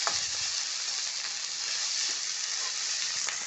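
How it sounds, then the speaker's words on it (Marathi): Fenugreek leaves stirred and sautéed in hot oil with garlic and green chilli, a steady close broadband sizzle running throughout with faint scrapes of stirring and no voices. "आता हलवून घेऊया अशा प्रकारे आपल्याला परतून घ्यायची आहे"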